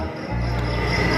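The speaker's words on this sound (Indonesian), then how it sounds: "hanya terdengar suara jangkrik berirama" Crickets chirp in a steady, rhythmic drone as a theater sound effect at the Tsunami Museum in Aceh, loud and continuous after a brief quiet start.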